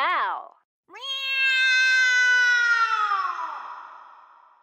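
Two meows, a short one followed by a long, drawn-out wail, loud and close; likely a human voice imitating a cat.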